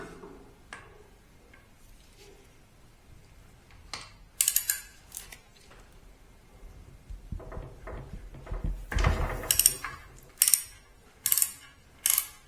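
A 5mm Allen key works the oil drain plug at the bottom of a Ducati Multistrada 1260S sump, heard as scattered metallic clicks and ratcheting taps, sparse at first, then a cluster of louder sharp clacks.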